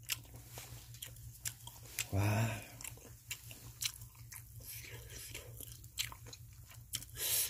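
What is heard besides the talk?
biting and chewing crispy grilled fish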